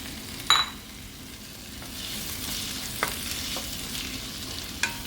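Onion and tomato sautéing in a pan for cauliflower masala, heard as a low steady background sizzle with a few sharp stirring clinks and scrapes spread across the stretch, no talking.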